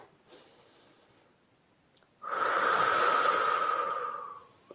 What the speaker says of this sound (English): when you breathe in and then breathe out twice as long